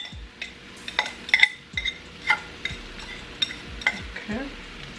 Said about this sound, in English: So I'm adding in the yucca root in there.